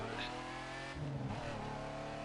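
A Lamborghini Miura in the racing game The Crew 2 revs its engine, a throaty, muffled note that dips and swells briefly midway before settling back into a sustained drone with no talking.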